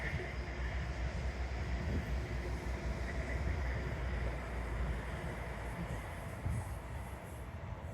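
A train rumbles past along a seaside seawall, a steady broad roar holding for several seconds at moderate distance, with wind and ambient outdoor noise and no clear talking.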